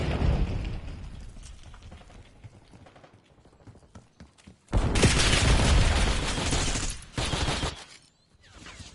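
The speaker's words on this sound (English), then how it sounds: "Enemy grenade!" An enemy grenade explodes in a video game firefight: a sudden loud blast with a roaring burst of noise midway through, a second shorter burst after it, then quiet, over earlier scattered gunfire and clatter.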